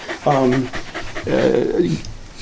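A Shetland Sheepdog pants during grooming, with short rhythmic breathy bursts heard close by, mixed in with a person talking over it.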